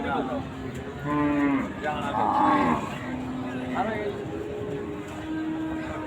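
Cows mooing at a busy cattle market, two drawn-out lowing calls close by over a constant crowd murmur, with people talking.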